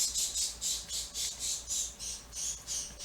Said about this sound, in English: The birds agree with me.